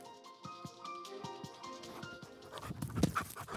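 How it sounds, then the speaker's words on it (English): A large, energetic two-year-old dog of just over 100 pounds panting rapidly in quick rhythmic breaths, close and moderately loud, growing busier and rougher toward the end. "At 2 years old and just over 100 pounds, Leo is one energetic pup"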